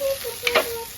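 Onion and tomato sizzle steadily as they sauté in a pan, with a couple of short scraping stirs in the middle and no voices.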